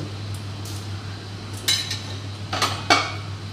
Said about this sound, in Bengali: এবার এটা ঢেকে দেব।